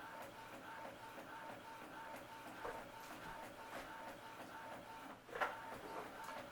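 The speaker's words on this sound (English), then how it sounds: "So it's printing this out now" Epson home printer running off a page, a soft steady mechanical whir with faint rhythmic clicks and one brief louder clack near the end, fairly quiet and close.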